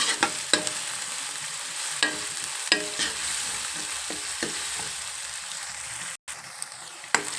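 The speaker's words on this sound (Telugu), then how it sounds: "ఇప్పుడు ఇలా వేసిన తర్వాత మనం బాగా కలుపుకోవచ్చు" Broad bean curry with curry leaves stirred in a pan, a low background sizzle broken by repeated spatula scrapes and knocks against the pan, no talking.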